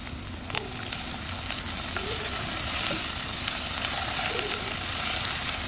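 Onion, ginger and garlic fry in hot oil for pulao, giving a continuous close sizzle with faint stirring scrapes and no talking.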